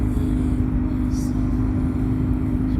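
A vehicle rolls along a packed stony gravel track near Verzy, producing a loud, steady, close engine and road rumble that runs unbroken throughout.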